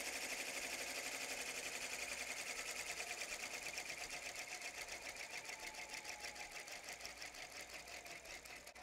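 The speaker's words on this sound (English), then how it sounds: "Now it proceeds to stitch each letter" A Brother Entrepreneur X PR1055X embroidery machine stitches letters, a fast, even mechanical chatter of needle strokes running continuously at close range, steady in pace and fairly quiet throughout.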